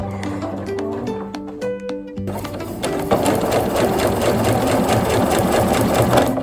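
A sewing machine stitching while a dress is altered, starting with steady rapid mechanical clatter and then running faster and louder in a continuous whirring drone, close and alone.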